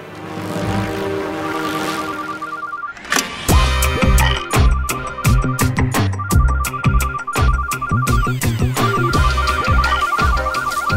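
A mobile phone with LifeVibes Ambient volume rings loudly, a repeating electronic ringtone pattern sounding over loud, thumping music with a heavy beat that continues throughout.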